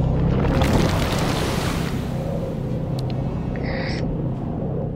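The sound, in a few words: waves of water gurgling after a dam bursts, video game Dungeons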